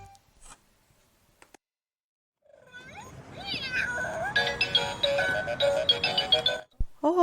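After a few faint clicks and silence, a toy cat's electronic meowing plays loudly and continuously, with warbling tones and a ticking mechanical undertone.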